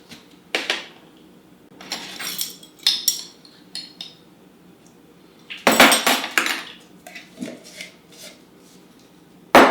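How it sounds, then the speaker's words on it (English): A utensil mixes flour, baking powder, salt and baking soda in a bowl for vegan blueberry muffins, giving intermittent scraping and clinking strokes in short bursts separated by quiet gaps, close and moderately loud. "We're going to mix together our flour, our baking powder, salt, and baking soda so that it's all well integrated together."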